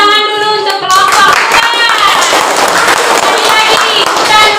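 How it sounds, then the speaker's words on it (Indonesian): A class of students claps for a group during a school lesson, dense overlapping clapping filling the room at close range, with children's voices mixed in throughout. "Oke, tepuk tangan dulu untuk kelompok"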